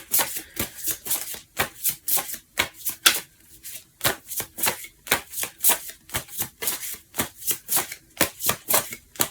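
Oracle cards being shuffled by hand make a rapid, rhythmic run of crisp riffling slaps that repeat steadily and close up.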